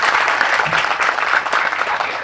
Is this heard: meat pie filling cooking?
no